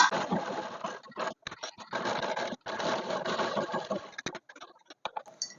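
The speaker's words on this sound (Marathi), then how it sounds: "आणि आता डबल शिलाई मारून घेऊया" An electric sewing machine double-stitches lace onto a round neckline, running in fast continuous bursts with short pauses between them, close and steady, then several brief stops and starts near the end.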